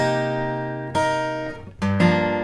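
Acoustic guitar bar of a slow fingerpicked progression, with sustained ringing chords, a fresh strum near one second, a short muted percussive slap on the bass strings around 1.8 seconds, then a final ringing chord, played alone.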